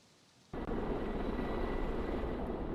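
Helicopter engine and rotor noise in gameplay footage, starting abruptly after a quiet half-second and holding as a loud, steady broadband roar for the rest of the clip.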